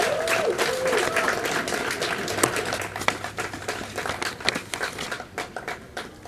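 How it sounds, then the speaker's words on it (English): Graduates at a commencement ceremony give their parents a big round of applause and cheers, dense clapping from a large crowd that rises and falls with scattered louder claps and some mixed voices. "turn towards your parents and give them a big hand and a cheer of thanks for all they've done for you"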